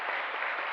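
Brief, dense applause from a church congregation indoors, a steady wash of many hands clapping at once, moderately loud and with no talk over it.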